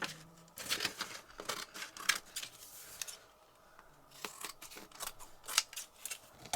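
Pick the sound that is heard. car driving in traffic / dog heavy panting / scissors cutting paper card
scissors cutting paper card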